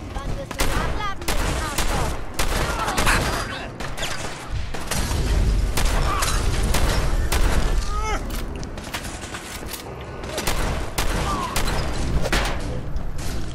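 Rapid gunfire bursts in Fallout 4 crack and rattle almost continuously, with dense repeated shots and booms up close, while a voice talks in the background.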